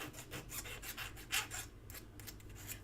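A file rasps across the corners of a scrap metal texture plate in short back-and-forth strokes, close and fairly quiet with no talking.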